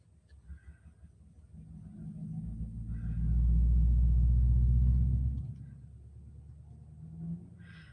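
A neighbor's loud truck rumbles nearby, a deep low engine drone that swells gradually, peaks loudly for a couple of seconds, then fades back down, with faint bird chirps in the background.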